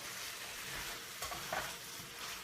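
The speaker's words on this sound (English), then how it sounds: "we're gonna stir it around and get the pasta with the sauce" Pasta being stirred through sauce in a hot pan with bacon and butter, a close, constant sizzle with soft wet scraping and a couple of brief louder stirs, no talking.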